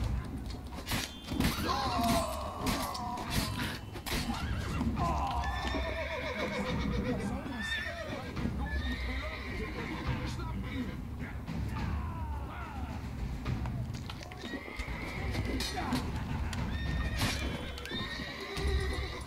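A horse in the video game The Witcher 3: Blood and Wine whinnies loudly several times over steady clip-clopping hooves, with voices talking now and then in the background.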